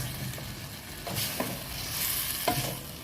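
Sautéed mixed vegetables with chicken being stirred in a pan: a soft, steady sizzle broken by a few scraping strokes, close and fairly quiet, with no talking.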